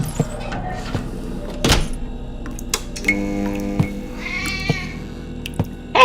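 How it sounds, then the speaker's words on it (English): A cat meows a few times indoors with short tonal cries, mixed with door thunks, knocks and clattering household noises at close range. "Hey, you got a cat too?"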